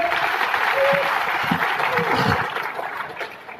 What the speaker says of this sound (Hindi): बहुत अहम आदमी इनका तालियों से इस्तकबाल कीजिए